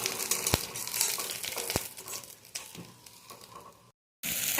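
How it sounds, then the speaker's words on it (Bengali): Cumin, dried chilli, bay leaf and ginger sizzle in hot oil while a spoon stirs them, giving a steady close frying hiss with a few sharp scrapes and clinks, briefly cutting out near the end. "এখন আমি জিরে, শুকনো লঙ্কা আর তেজপাতা আর আদা দিয়ে একটু নাড়াচাড়া করব।"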